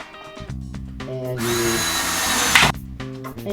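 A battery-operated drill drives a Phillips-head screw into a wooden canvas frame in one steady whining burst of about a second, with brief clicks and handling before and after.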